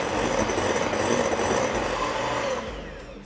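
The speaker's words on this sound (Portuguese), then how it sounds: "A gente vai bater muito bem aqui com a batedeira, até ele ficar bem espumoso e clarinho." An electric hand mixer whirs steadily at high speed while beating three eggs in a bowl until foamy and pale, a continuous loud buzzing drone that eases off near the end.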